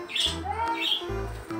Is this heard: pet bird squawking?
yes